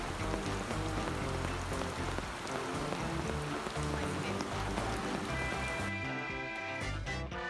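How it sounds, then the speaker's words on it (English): Steady rainfall in Phuket, Thailand, pattering on a surface, a dense continuous hiss of drops with no voices, easing slightly near the end. "but we arrived to a lot of rain."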